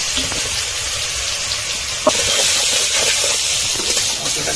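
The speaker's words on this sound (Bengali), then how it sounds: "প্রথমে পটলটা ভেজে নিচ্ছি" Pointed gourd (potol) fries in hot oil in a pan, giving a steady loud sizzling hiss that continues throughout.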